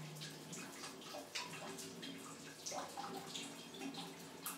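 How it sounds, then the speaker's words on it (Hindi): Water heating to a boil in an instant electric water heater, faint bubbling and gurgling with irregular watery pops and trickles, close and continuous. "फुल पानी उबल रहा है"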